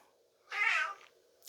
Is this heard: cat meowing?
yes